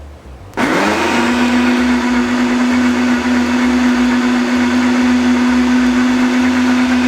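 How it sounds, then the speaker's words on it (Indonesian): A vacuum blender switches on and runs to blend ice into a frappuccino, a sudden start followed by a loud, steady motor whine with a constant pitched hum and a grinding undertone, close and without talk. "Oke, kita blender."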